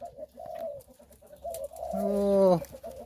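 A zebra dove coos nearby in low, soft repeated notes, ending in a longer, louder rolling coo. No voices.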